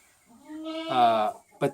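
A sheep of the same kind as a small farm flock, bred for butchering, gives one long wavering bleat that swells loud and close, followed by a short sharp second cry.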